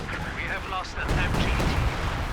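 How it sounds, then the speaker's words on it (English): Pathfinder artillery fire in Company of Heroes 2, heavy booming impacts landing in a cluster and swelling louder in the second half, with game effects and a voice talking over it. "Pathfinder artillery takes care of the machine gun"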